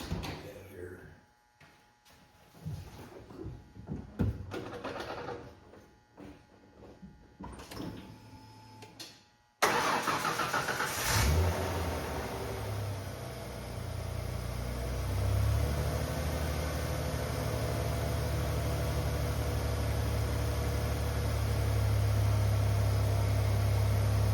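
A 4.9 Ford F150 pickup with a Saginaw pump cranks and fires abruptly, then settles into a steady, loud idle with a low rumble that continues alone after some quieter handling noise.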